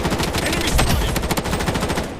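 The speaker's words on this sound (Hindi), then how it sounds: "राइट साइड से फायर आता है" Automatic gunfire in the Project Bloodstrike shooter game, rapid rattling bursts of close, loud shots filling the whole moment with almost no pause.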